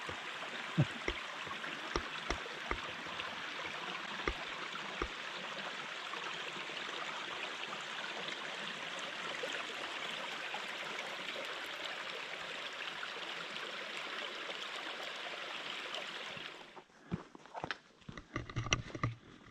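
Steady broadband rush of a clear mountain stream flowing close by in Norway, continuous throughout, with a few soft knocks and footsteps near the end.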